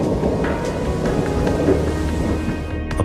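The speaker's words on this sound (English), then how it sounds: "Watching a dramatic electrical storm sweep across the Great American Plains in Oklahoma, Justin Norris goes back to work inside." Electrical storm over the Oklahoma plains, a continuous loud rumble of thunder layered with steady rain noise, dense and enveloping throughout.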